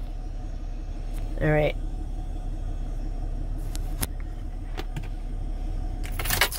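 A car engine idles with a low, close rumble before cutting off, followed by a quiet outdoor lot at a lake with a brief whirring, a few clicks and someone speaking briefly.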